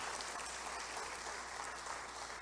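Applause from a church audience during a sermon, a dense, even wash of many hands clapping at a distance that holds steadily without a break.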